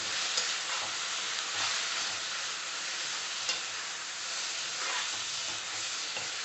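Tomatoes for a tomato curry fry in a pan while being stirred. There is a continuous soft sizzle and hiss, with faint scraping now and then, and no talk.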